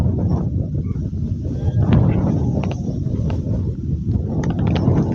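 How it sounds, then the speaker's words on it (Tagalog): Strong wind buffets and roars against the microphone at a Laguna Lake fishing spot, a steady low rush with faint clicks and water sounds underneath. "Lakas ng hangin"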